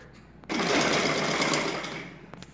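A sewing machine stitches a puff sleeve for a blouse in one steady, close run of about two seconds. Quiet handling comes before and after, with no talking.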